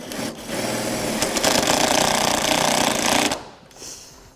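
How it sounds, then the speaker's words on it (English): A self-tapping screw is power-driven through two circuit breakers into the firewall of a 2007 Jeep, giving a loud, steady buzzing whir for about three seconds that then stops. "we're going to take the 1 self-tapping screw, go through both of our breakers there, and then get that first one attached to the firewall"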